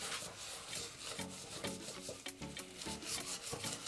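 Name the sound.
scrubbing a pan with steel wool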